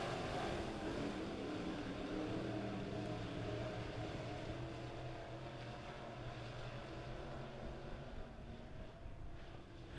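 Midwest modified race cars roar through a heat race at Springfield Raceway, a loud, steady engine drone that holds for the full stretch with no one talking.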